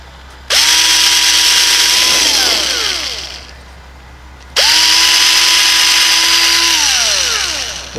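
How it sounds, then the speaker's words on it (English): A small drill bit boring a pilot hole in a wood block, two loud close bursts of a whining electric drill, each spinning up, holding steady for a few seconds, then winding down. "Take a real tiny drill bit."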